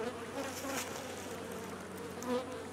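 Honey bees buzz at a top bar hive during an inspection, a dense steady drone of many insects close by, with individual bees swelling louder as they pass near.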